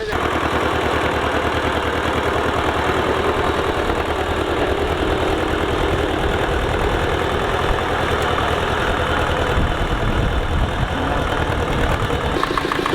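An old tractor, just repaired, runs while plowing a field, its engine a loud continuous close chugging drone that holds steady throughout with no talk.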